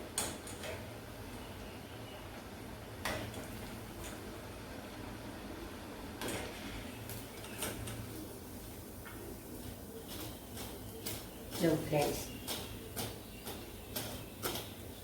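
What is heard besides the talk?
medu vada frying in oil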